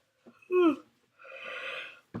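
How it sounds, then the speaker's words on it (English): A person yawns once, a drawn-out breathy yawn with a rising vocal tone near the start and a long airy exhale after it, close and alone. "Sorry, I can't stop yawning."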